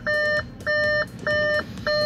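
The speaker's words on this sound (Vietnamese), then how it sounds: "Đang mở cửa cho nên nó tút tút quý bạn ạ." Door-open warning chime in a 2016 Audi Q5 2.0T Quattro, US-import version: four evenly spaced electronic beeps, each roughly 0.4 s long with short gaps between, loud and close over a low cabin hum, with no talk.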